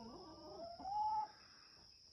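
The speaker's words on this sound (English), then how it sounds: "The hens are being so vocal this morning." Faint hen vocalizations at a distance: a low warbling cluck rising into a drawn-out note, over a steady high insect-like hum.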